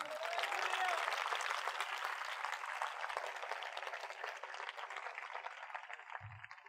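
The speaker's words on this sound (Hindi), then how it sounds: "तो फिर तालियां बजाओ ना" Audience clapping fills a church revival meeting, a sustained crowd applause that starts strong and gradually thins and softens over several seconds, with a faint low thump near the end.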